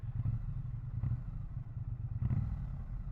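Steady low rumble of a Triumph Bonneville T100 idling through its pea shooter exhaust, heard up close, with a couple of faint blips lifting the note now and then and no voices over it.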